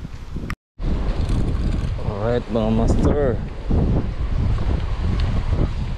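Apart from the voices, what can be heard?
strong wind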